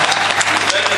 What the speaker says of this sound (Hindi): जिसपे आपने सबसे ज्यादा तालियां बजाई